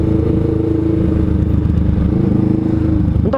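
A Honda CMX500 Rebel motorcycle riding through congested traffic, its engine a loud steady low drone heard up close from the rider's position, with a faint scrape near the end.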